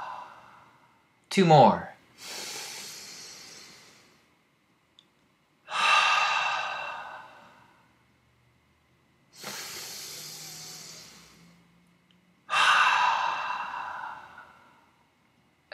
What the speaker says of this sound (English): Take a deep breath through the nose, out through the mouth.